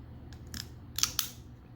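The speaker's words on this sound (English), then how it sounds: "the wings do fold up for the transformation into a key. So you just fold these up" Plastic wings of a toy rocket robot folding up into a key shape, heard as a few brief, close clicks and snaps, the two sharpest near the end, with no talk.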